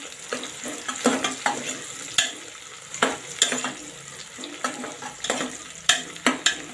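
Cashew halves frying in oil in a pan for green peas pulao, a sizzling bed broken by repeated scraping and clinking as a utensil stirs them, close and uneven, with no speech.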